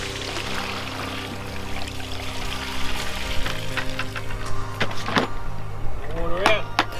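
Salt water poured out of a 2-litre bucket of processed olives, a wet splashing pour with loud, continuous water running over a steady hum, ending in a few gurgles and drips.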